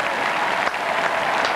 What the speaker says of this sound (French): Et Nelson Payou, de la cabine de commentateurs, applaudit le président